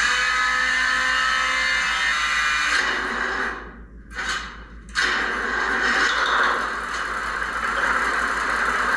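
A simulated 2,000 horsepower boat engine roars steadily and loudly like a diesel, briefly dropping away for a moment before surging back at full volume.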